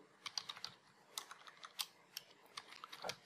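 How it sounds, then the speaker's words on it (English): Keys clatter on a computer keyboard as a command is typed on a Windows 10 PC, a quick irregular run of close, light clicks with no talking. "Now first type"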